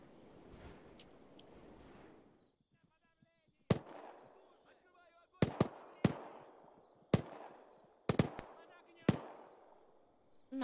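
Gunfire in a military game set during a Russian occupation: a rushing blast, then a series of sharp, spaced single shots with echoing tails, some in quick pairs, moderately loud, with a faint voice early on.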